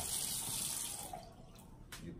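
A bathroom tap runs steadily as water splashes while a face is rinsed after cleansing, a close, full hiss for about a second before it drops quieter.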